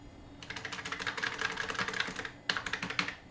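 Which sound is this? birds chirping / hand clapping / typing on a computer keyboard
typing on a computer keyboard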